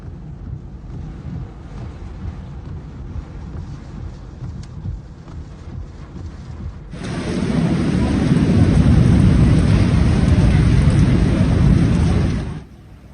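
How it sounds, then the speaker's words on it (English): Torrential rain with wind and thunder over Makkah streets, a low rumbling roar that swells suddenly halfway through into a loud, dense wash of pouring water and wind before cutting off. "The video clips also recorded rain accompanied by wind and lightning, torrential water pouring down the street"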